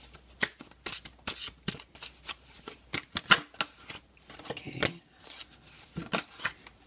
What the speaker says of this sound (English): I'm just going to shuffle it off screen for a moment